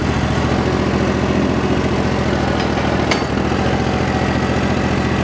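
A Power Trac compact tractor engine runs steadily at a close, loud, even drone with a constant low throbbing pulse, and nothing else is heard over it.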